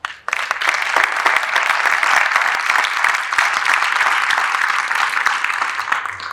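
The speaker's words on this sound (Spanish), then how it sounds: "Fuerte aplauso" Loud applause at a university panel on the future of social sciences, a sudden burst of many hands clapping close and dense, sustained for several seconds without any talking.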